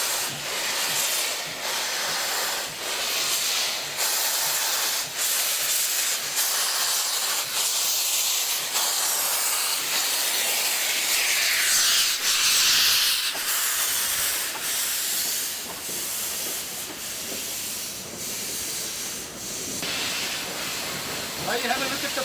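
A steam locomotive blows a loud, steady hiss of steam and water from its cylinders for a long stretch, rising to a peak midway, while a voice talks now and then over it.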